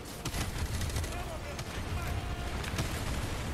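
Gunfire and explosions from Modern Warfare 2 Remastered on hard difficulty, a dense, continuous wash of shots and blasts with rapid bursts layered throughout, loud and busy.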